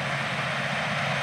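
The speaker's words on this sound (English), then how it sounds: "We're out in the field with a 620 horsepower John Deere 9620R four-wheel drive on triple tires" A 620 hp John Deere 9620R four-wheel-drive tractor on triple tires pulls a 34-foot Wishek 862NT heavy disc with 30-inch blades across a field, giving a brief, steady, moderately loud low engine drone with broad rumbling noise.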